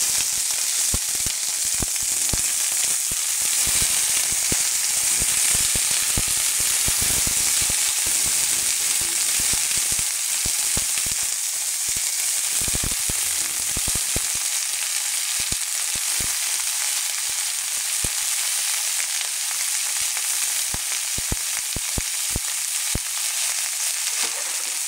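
String beans (sitaw) fry in a pan with a steady, loud hiss and crackle that fills the whole stretch, broken by occasional stirring knocks and scrapes.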